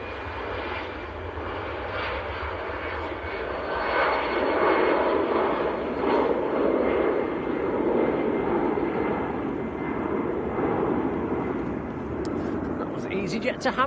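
An EasyJet airliner at Manchester Airport roars past with a loud, sustained jet engine rumble and whine that swells mid-clip and slowly eases, heard fairly close in cold outdoor air with a voice speaking over it.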